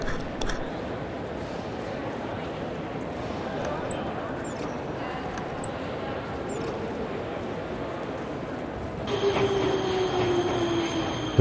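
Continuous rumbling of a train rolling along the tracks in the video game Nobodies: Silent Blood, steady and close, with a faint squeal of wheels near the end.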